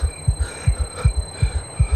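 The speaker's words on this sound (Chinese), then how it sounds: "小心脏开始扑通扑通扑通扑通的乱跳了呢" A heartbeat effect in the Identity V video game thumps in steady paired beats, low and throbbing, about five double beats under a faint hum, with no talk.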